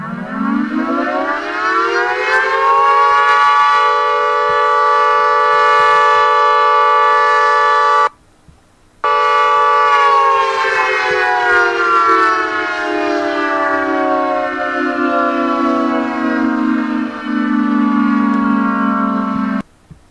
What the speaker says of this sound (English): an STM-10, a 10-port version of the STH-10, so it's single-tone medium 10 horsepower